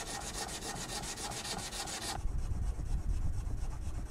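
A piece of shell being ground on a whetstone for mother-of-pearl lacquer inlay: a steady, close scraping rasp in quick back-and-forth strokes, shifting to a lower, rougher grinding partway through, with no speech.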